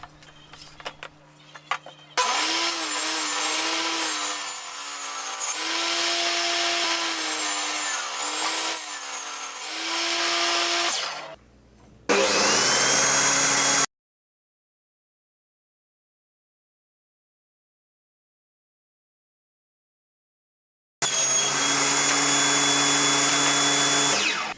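A power tool cuts 18mm plywood in long, loud, sustained passes of buzzing whine, interrupted by brief stops and a long silent gap before cutting resumes.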